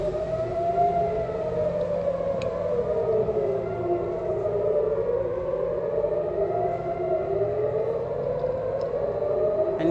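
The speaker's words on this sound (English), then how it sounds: "I hope you can hear the sirens." Civil defense air raid sirens wailing during a rocket alert in Israel, several loud overlapping tones rising and falling in slow waves, continuous throughout with faint traffic beneath.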